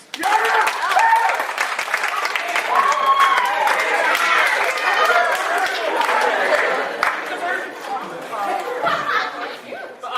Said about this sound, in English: Quick show of applause.